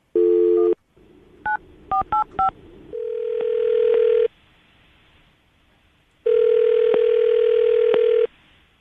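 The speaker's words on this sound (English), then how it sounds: "I'm going to call her right now, see if we can get her on the phone" A phone line hums with a steady dial tone, followed by a quick series of beeping keypad tones, then long ringback tones pulsing on and off.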